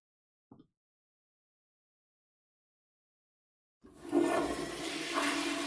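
A toilet flushes with a loud, rushing burst of water that starts suddenly after a long stretch of silence and a brief faint knock, continuing to the end.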